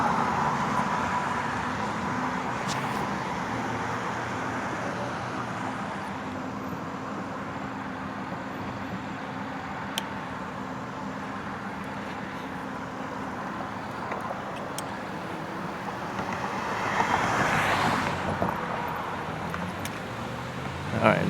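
Cars passing on a road during a RadRover 5 e-bike ride on wet roads after rain, a steady roar of traffic and tyre noise with wind rushing past, one vehicle swelling louder near the end.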